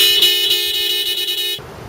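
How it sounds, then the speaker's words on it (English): A car horn sounding one long, loud sustained honk that runs unbroken for about one and a half seconds, then cuts off abruptly. "The proper way to honk your horn in the event that the Lakers lose the playoffs is as"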